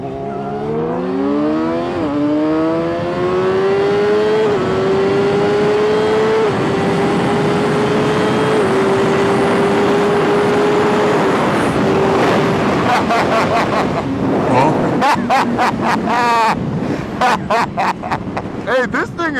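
A Kawasaki ZX-6R motorcycle accelerates hard through several gear shifts, pitch climbing and dropping, loud and close with wind rush, then eases off into choppy noise near the end.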